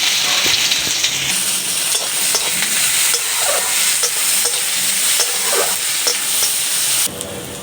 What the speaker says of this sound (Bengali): পেঁয়াজটা হালকা ভাজা ভাজা হয়ে গেছে